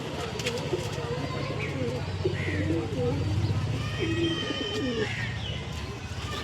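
Punjabi pigeons, a male and a female, coo steadily in a repeated low rolling rhythm, close by, with a few chirps and a person speaking over them.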